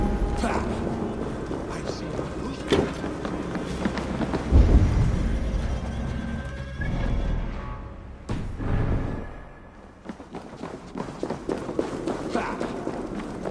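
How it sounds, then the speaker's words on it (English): In Assassin's Creed Valhalla, thunder rumbles low and heavy amid steady rain-like noise, with a deep roll near the middle and softer rumbles later, under game character speech. "That sound. Is it thunder?"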